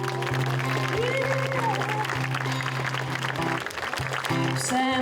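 At a municipal holiday ceremony in Kranjska Gora, an audience applauds a performer with steady, moderately loud clapping. Sustained musical tones and humming sound beneath the clapping.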